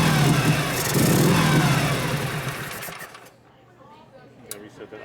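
A 1965 Harley-Davidson Panhead 74ci FLH, fuel starved, is kicked over and churns without catching, a loud close mechanical rumble for about three seconds that then fades to quiet, with voices talking over it.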